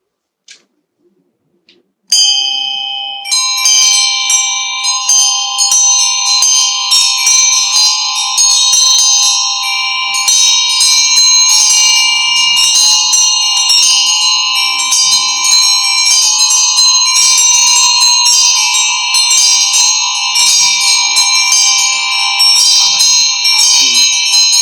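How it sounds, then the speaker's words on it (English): Ritual bells rung in Chöd practice during a retreat, a bright sustained ringing that starts after a couple of faint taps and continues loud and steady, with layered overlapping tones. "then next we begin the bells and Dhamara"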